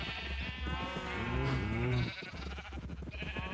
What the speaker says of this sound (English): now you can hear the sheep next to us, but that's just because of how noisy they are